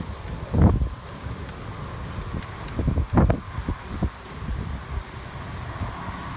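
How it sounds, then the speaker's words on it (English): Strong wind from a severe hailstorm in the Dallas–Fort Worth area of Texas buffets the microphone in loud, rumbling gusts from a shaking car, surging and easing in irregular waves with rustling underneath. "Now the wind is picking up."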